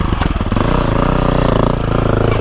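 A BMW R 1250 GSA motorcycle engine runs steadily off road, a loud, close, continuous throbbing drone with a slight surge early on and no talk over it.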